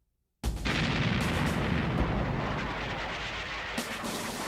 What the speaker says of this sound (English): the assignment is the shelling of the Japanese-held island of Iwo Jima